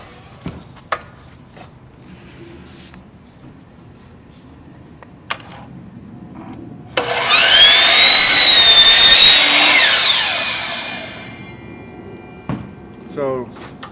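Power saw cutting a 45-degree angle through trim moulding, a loud continuous whine that starts abruptly, holds for about three seconds and tapers off, with faint taps and handling noise before and after.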